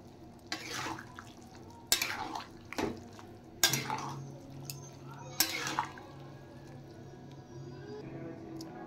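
Boiled kidney beans, chana dal and another dal tipped into a fried spice mix for a dal curry: a few sharp spoon-and-pot clatters and scrapes at uneven intervals over a soft sizzle, close and moderately loud.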